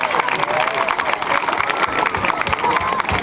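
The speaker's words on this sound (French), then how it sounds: "un grand applaudissement pour le maire de Fismes" A crowd at a September commemorative day in Fismes applauds the town's mayor, dense continuous clapping mixed with cheering and a lively murmur of voices throughout.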